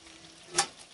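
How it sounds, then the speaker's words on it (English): Food sizzles in a pan during cooking, with dry vermouth just added: a single short, loud burst of hissing crackle in the middle, then quiet again. "Ah, it's sizzling."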